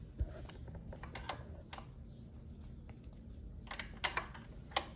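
A size 10 tool works a radiator bolt loose, giving a series of sharp metallic clicks and ratcheting taps, with a couple of louder knocks near the start and end over a low background hum.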